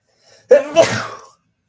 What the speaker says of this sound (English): One moment as I sneeze.